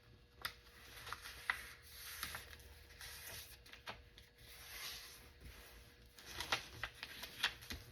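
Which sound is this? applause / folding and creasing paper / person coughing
folding and creasing paper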